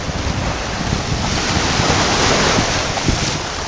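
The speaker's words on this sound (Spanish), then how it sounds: "Con la siguiente ola, espérate." Sea waves surge and break continuously on a beach during surfcasting for gilthead bream near Valencia, a steady loud roar of surf mixed with wind buffeting the microphone, with no voices.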